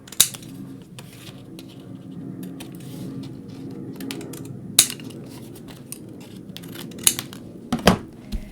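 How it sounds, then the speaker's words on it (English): Scissors trimming paper pieces, with repeated crisp snips and clicks at irregular intervals over a low background rustle, fairly close and without talk. "I'm going to go ahead and trim these off so I can have a better idea where I want to place them"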